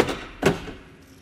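Central locking on a 2018 Mercedes-Benz G-Class (W464): two solid mechanical clunks from the door locks, close and moderately loud, about half a second apart, with no voices.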